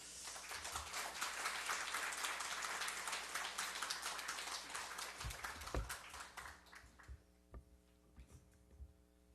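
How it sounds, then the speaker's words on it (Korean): A church congregation applauds in welcome for a visiting missionary at a Sunday service, dense clapping filling the hall for several seconds before thinning out to scattered claps and room hum. "우리 선교사님에게는 우리가 환영하면서 따뜻하게 영접하는 박수로 이렇게 맞아주시면"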